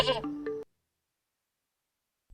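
A cartoon goat bleats in a children's animation, one quavering bleat up close, followed by silence.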